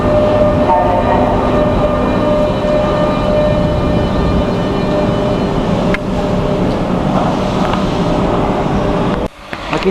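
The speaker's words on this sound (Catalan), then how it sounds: "próxima circulación por vía 2, cercanías, tiene parada en todas las estaciones" Commuter train at l'Hospitalet railway station, a loud continuous rumble and wheel roar filling the platform, with tonal squeal lines, steady throughout before a brief dip near the end.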